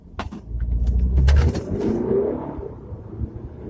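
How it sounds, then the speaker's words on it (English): An Audi Quattro pulls away and accelerates hard uphill during a 0 to 60 run in Scotland, a loud engine rumble building in the first seconds, then easing into a steadier drone as it gains speed. "0 to 60 test. Away to start now. Here it goes."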